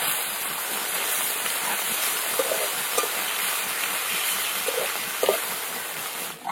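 Cut pieces of bata fish fry crisp in hot oil, giving a steady, even sizzling hiss throughout with a few faint pops and no talking.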